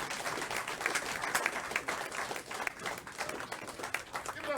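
Comedy club audience breaking into applause at the end of a stand-up set, a fairly close wash of clapping with uneven surges and scattered cheers.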